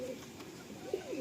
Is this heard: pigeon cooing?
yes